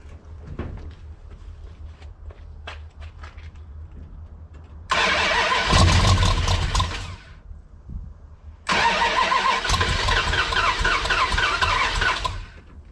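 A 1970 Plymouth Fury III with a 360 engine cranks and fires: quiet clicking and ticking first, then a loud rough burst of engine running for about three seconds, a drop to idle, and a second sustained loud run.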